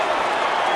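A loud, steady roar of the arena crowd cheering at the PDC Premier League Darts Final between Gerwyn Price and Rob Cross, a dense continuous wall of voices filling the whole moment.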